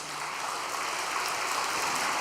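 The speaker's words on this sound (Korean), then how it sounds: "우리 간학교의 발전을 위해서 격려의 박수 한번 보내주시기 바랍니다." A church congregation gives encouraging applause, a broad, even wash of many hands clapping that sounds almost like steady rain, heard from a little distance and sustained throughout without speech.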